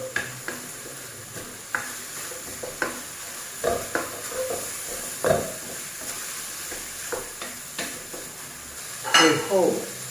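Minced pork stir-fried with Thai basil and a little sugar in a pan, with a soft sizzle underneath and repeated scraping stirs and utensil clinks at an irregular pace, close by.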